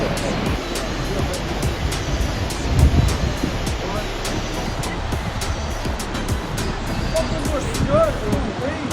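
Rushing water roars continuously nearby from a waterfall where river meets sea near Fisterra and Muxía, Galicia, Spain, a broad steady wash of noise, with gusts of wind buffeting the microphone.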